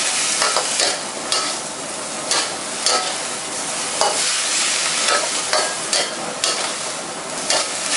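Kimchi with bacon sizzles continuously in a hot pan while a spatula scrapes and tosses it in a regular rhythm of short strokes, close and alone without speech.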